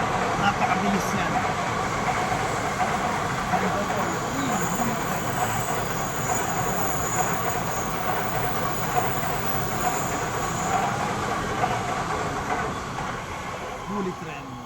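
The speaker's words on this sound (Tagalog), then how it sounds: "kita nyo yung bullet train na to. Napakagandang bullet train." A Japanese bullet train rushes past close by, a loud steady roar of wind and rolling wheels that slowly fades toward the end.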